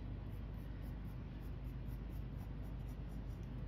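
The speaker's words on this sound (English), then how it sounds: "Draw some grass around my pond." A pen or marker scratches steadily across paper while grass is sketched around a drawn pond, a faint, continuous scribbling hiss with no speech.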